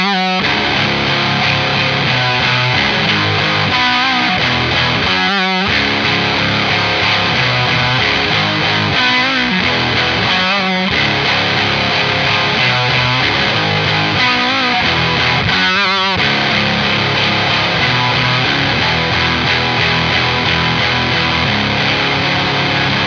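Electric guitar played through the rare 1990s Boss XT2 Distortion and PW2 Power Driver pedals: a loud, thick, saturated tone of continuous chords and riffs, with brief pauses near the 5- and 16-second marks.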